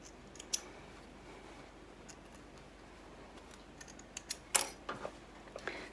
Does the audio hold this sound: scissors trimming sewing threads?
yes